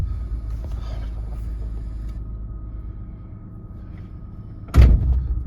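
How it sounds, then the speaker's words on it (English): Inside a Lexus ES350, the transmission gives a single heavy clunk near the end of the clip while shifting between reverse and drive, over a low steady engine rumble. "Okay, went to reverse. Okay, went to drive. Ooh, that's a little clunky."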